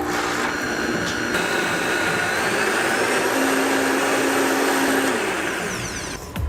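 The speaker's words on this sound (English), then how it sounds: "Go ahead and puree the soup until smooth." A blender purees squash soup with a loud, steady, dense whirring roar that holds evenly for several seconds and drops off briefly at the end, with no talk.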